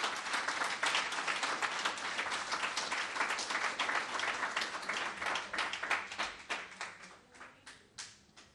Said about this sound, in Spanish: Dele un aplauso a nuestro Dios que Él nos ayuda.